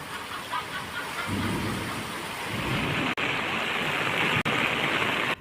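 Torrential monsoon downpour with thunder in the Lathi area of Amreli district, Gujarat: a dense, steady roar of rain on surfaces, with a deep rumble of thunder swelling in the background and no voices.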